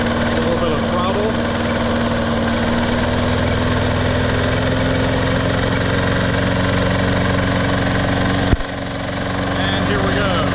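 The petrol engine of a Snapper lawn mower, model P217018BV, runs at a little throttle with a steady, close, buzzing drone. A single sharp clunk cuts through near the end.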